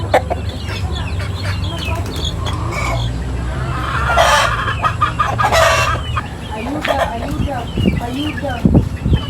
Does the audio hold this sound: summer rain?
no